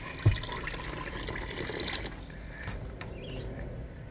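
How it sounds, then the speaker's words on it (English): Water runs from the small lift-up faucet in a 1985 VW Vanagon Westfalia camper, fed from a fresh water tank, a steady close stream after an initial knock, with no voices. "You just lift up this little faucet, and that's all working."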